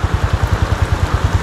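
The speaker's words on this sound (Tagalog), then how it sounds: "Lakas ng ulan." Heavy typhoon rain pounding down with near-zero visibility, a dense steady wash of noise with a fast rhythmic drumming underneath, loud and continuous throughout.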